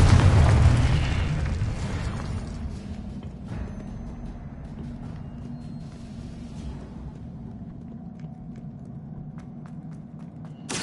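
The Confringo spell explodes in Hogwarts Legacy with a loud, close boom that fades into a long, rumbling decay. A few faint clicks and pops can be heard near the end.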